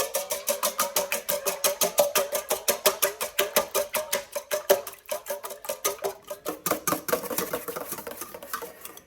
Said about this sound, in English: we'll need to whisk this for a good bit until it becomes frothy and thicker